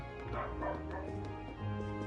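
A dog in the video game Trails of Cold Steel gives a few short barks and yips against the game's music, close and moderately loud over about two seconds.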